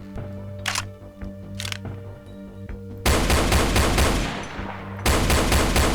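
Pistol gunfire in the video game Golden Souls 2, a few sharp cracks at first, then dense rapid bursts of shots over game music and ambience, loud and close.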